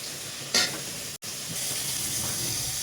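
Tomatoes dropped into a hot pan sizzle loudly, a steady frying hiss with a brief stir near the start and a short break before the sizzling resumes.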